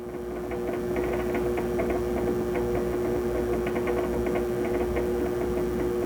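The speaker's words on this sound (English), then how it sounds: "I've got my wheel going about half speed" A pottery wheel turning at about half speed gives a steady, even motor hum with a faint rhythmic whir, constant and close throughout with no talking.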